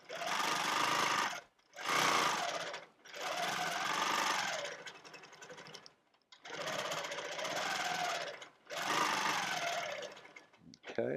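A sewing machine quilting fabric with a dimensional ruler runs in five separate bursts, each a second or two long with short pauses between, its rapid needle chatter close and fairly loud.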